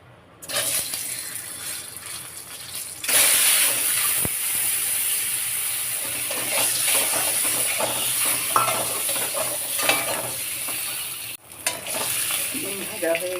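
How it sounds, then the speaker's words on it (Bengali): Eggs frying in a little oil with turmeric and salt: a loud, continuous sizzle swells after a quiet start, with scattered stirring clicks and a brief dip before the frying resumes. "এবারে ডিমগুলো ভেজে নেব"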